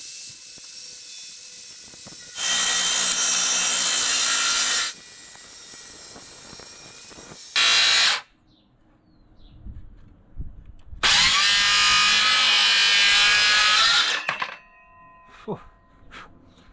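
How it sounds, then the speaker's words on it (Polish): A Makita cordless circular saw cuts a wooden worktop in loud, high-pitched bursts, two long runs separated by a short pause and a final extended cut, with quieter handling knocks in between. "to jest moje pierwsze cięcie. Moją nową piłą."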